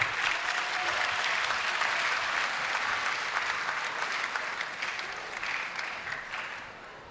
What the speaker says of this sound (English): let's give a round of applause and a warm welcome to Yudelka Tapia, Assemblywoman,